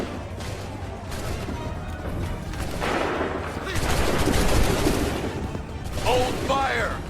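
Gunfire volley in Assassin's Creed 3, a dense crackling fusillade of many shots blending into a sustained roar, loud and chaotic, with shouting voices mixed in near the end.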